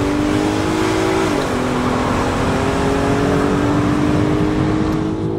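A Volkswagen Golf 5 R32 engine revs steadily at high pitch, held loud and continuous with a slight shift in tone partway through.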